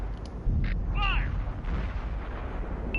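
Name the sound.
tank cannon firing in the video game World of Tanks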